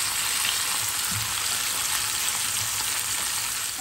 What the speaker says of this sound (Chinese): 看看我们这煎了差不多有2-3分钟了啊，看看怎么样啊，可以不可以翻面？